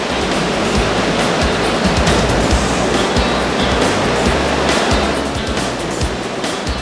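Ocean surf at a beach rushes and splashes steadily, a loud continuous wash of breaking waves with no voices.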